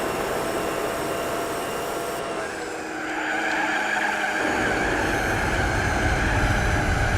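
A race car in Gran Turismo 4 holds a long, steady tire squeal under a droning engine, with the pitch of the skid shifting midway as the car slides through a corner.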